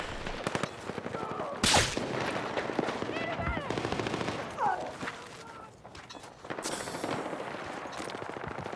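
LMG fire in the Battlefield 6 multiplayer shooter: dense, sustained bursts of rapid automatic gunfire with louder blasts mixed in, heard over and around a player's excited speech.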